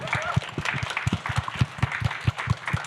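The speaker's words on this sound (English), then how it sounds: "let's give us a round of applause for our panelists" A panel audience at a tech leaders event claps for the panelists, a short round of light applause with distinct thumping claps and voices talking over it.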